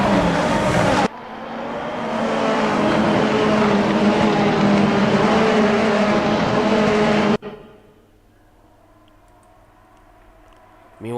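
Formula-style race cars in the Formula Hololive racing game at SUGO circuit, a loud sustained roar of engines at speed for several seconds, then an abrupt cut to a much quieter low engine hum.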